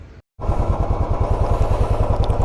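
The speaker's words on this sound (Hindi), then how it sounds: "बाइक स्टार्ट करते हैं और निकलते हैं।" A loaded touring motorcycle in the Himachal hills kicks to life after a brief silence, then settles into a loud, steady, thumping idle close by.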